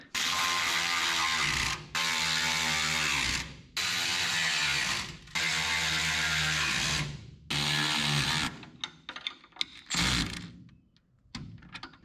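A ratchet clicks rapidly as sway bar end link bolts are cinched down on a 1999 Chevrolet S10 truck, several long close-up bursts of steady pawl chatter separated by brief pauses, then a few short, uneven clicks.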